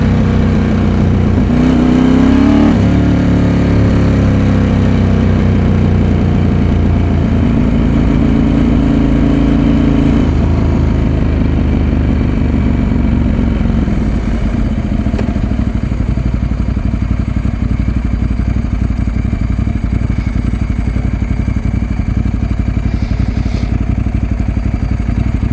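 A Ducati 916 motorcycle engine revs hard against its rev limiter, very loud and close. Rising revs give way to a sustained, stuttering high-rpm roar that holds steady for over twenty seconds.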